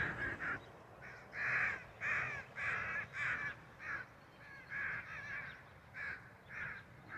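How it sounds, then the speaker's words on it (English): Crows caw repeatedly overhead outdoors, a steady series of harsh, evenly spaced calls at moderate distance over a faint background hiss. "Oh, the crows are going crazy up there."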